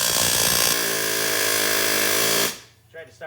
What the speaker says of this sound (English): I'm gonna take my air chisel, try not to hurt nothing